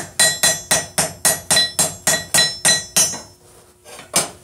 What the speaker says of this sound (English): So as I'm hammering on this,